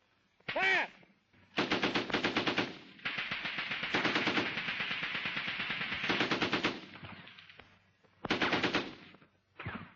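Machine-gun bursts from a WWII British Army infantry training exercise, loud and close, with one short burst followed by several sustained rapid strings of fire and separated by brief pauses.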